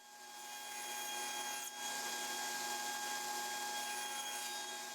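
A power saw rips a thin strip, about 1/16 inch, off wood stock for a keepsake box, a loud, steady, close whine with a brief dip partway through.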